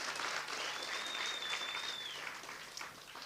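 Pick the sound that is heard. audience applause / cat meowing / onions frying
audience applause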